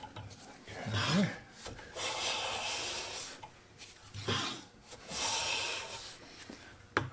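A bench plane is pushed along a wooden board in several long rasping strokes, each a sustained shearing swish with brief pauses between passes, close and fairly loud.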